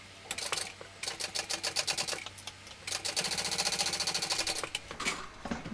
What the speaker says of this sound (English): Now I'm going to top stitch down on the red side.